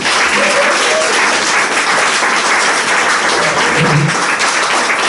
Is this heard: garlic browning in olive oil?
no